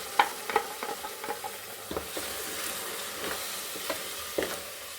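Spinach purée goes into fried masala in a hot pan, sizzling steadily with a series of sharp scraping stirs close by.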